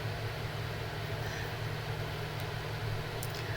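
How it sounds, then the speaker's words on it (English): An electric fan runs in a humid room with a steady, broadband whoosh and a low hum that holds at an even level throughout, with faint small ticks near the end. "so my fan is running"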